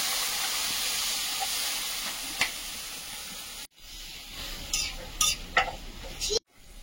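Pumpkin slices frying in a pan for a village vegetarian meal, a strong hissing sizzle that breaks off suddenly, then resumes more quietly with a few sharp clattering stirs and another abrupt cutoff.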